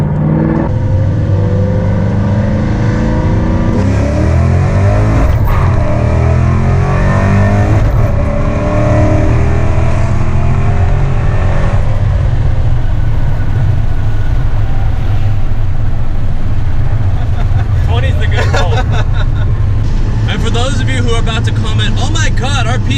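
A modified 2007 Shelby GT Mustang with a cam-only 3-valve V8 pulls hard on a highway from a rolling start, the engine droning and climbing through slow gear shifts, loud and steady from inside, with a voice talking over it.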